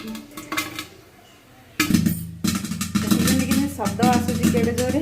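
Popcorn popping in a covered pot on a gas stove, scattered sharp pops and knocks against the metal, heard beneath someone talking.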